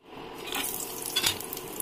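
Cashews and raisins frying in a little olive oil inside a hot pressure cooker, a steady close sizzle with a brief louder burst of crackle midway, no voices.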